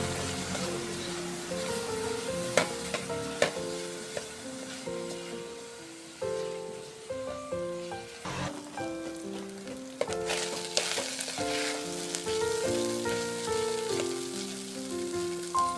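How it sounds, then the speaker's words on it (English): Fish sizzles and crackles as it fries in oil for crispy fish rolls. The frying is a steady, fairly soft hiss with scattered pops over background music, heard close, and no one speaks. "Then we'll fry it."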